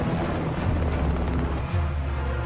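A helicopter in an action-film chase toward an airport gives a continuous, loud rotor chop, a dense pulsing drone that holds steady throughout, with no voices.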